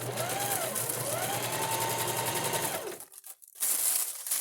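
A sewing machine runs steadily with a fast, rhythmic stitching whir, then stops abruptly; a brief clatter follows before a loud noise resumes.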